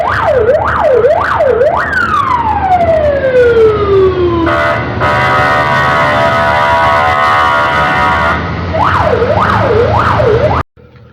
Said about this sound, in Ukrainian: Пожежники їдуть, видно, десь щось горить.